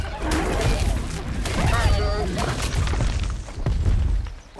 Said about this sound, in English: See if I can't hit her with a couple more rockets